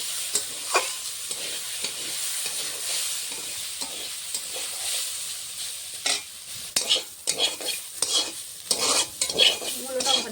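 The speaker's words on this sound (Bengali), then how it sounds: "আমি মূলোটা নেড়ে দেবো ঢাকনা খুলে।" Radish pieces frying in a pan are stirred with a utensil, giving repeated scraping and clinking strokes over a constant sizzle, growing busier and louder toward the end, with no one speaking.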